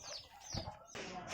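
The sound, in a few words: chicken clucking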